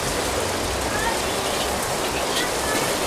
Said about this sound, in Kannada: ಹೆವಿ ಮಳಿ ನೋಡ್ರಿ ಹೆಂಗ್ ಹೊಂಟೈತಿ.